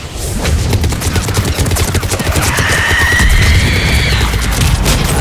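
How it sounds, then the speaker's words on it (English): Missiles launching in the video game Mass Effect, a loud, dense volley of booming blasts and crackling bursts with a rising whoosh in the middle, continuous for the whole stretch without talking. "Missiles away."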